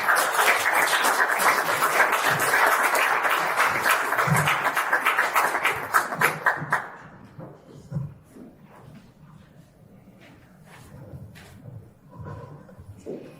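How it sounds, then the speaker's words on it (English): An audience at an evening MLK community event gives a sustained round of applause that fills the room for several seconds, then fades into scattered claps and a few voices. "So would you help me give a round of applause to Dr. Nicole Banks"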